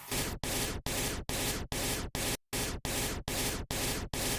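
Chopped glitch sample from Kashmir Glitch 05 in a dance remix: loud bursts of harsh broadband noise stuttering in a steady rhythm of about ten rapid chops with one brief gap, alone with no voices.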